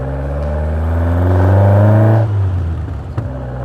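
A Caterham Seven's 1700 Ford Crossflow four-cylinder engine with twin Weber 40 DCOE carburettors revs up steadily to a loud, rising whine, then drops back to a rough, burbling idle.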